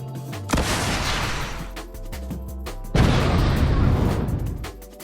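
A LEGO Star Wars rocket launcher is fired in a loud, booming, explosion-like effect, two heavy blasts with rumbling decay, the second burst louder and longer.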